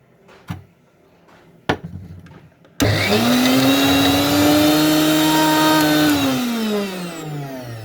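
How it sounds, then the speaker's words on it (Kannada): Mixer grinder grinding spice paste for amate kayi gojju: a few sharp knocks, then the motor starts abruptly into a loud, steady whirring roar that eases slightly toward the end, no talking. "ಆವಾಗ ನಾವು ಖಾರ ರುಬ್ಕೊಳ್ಳೋಣ"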